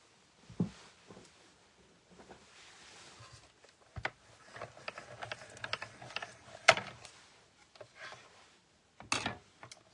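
A small manual die-cutting machine runs a motif die through, giving a steady run of close mechanical clicks and ratcheting ticks with a few sharper knocks, fairly quiet and alone.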